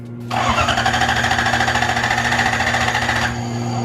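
A Lexus LS 400 on first start attempt during a drift rebuild, its starter cranking the engine loudly and continuously for several seconds with a steady rhythmic chug, no voices over it.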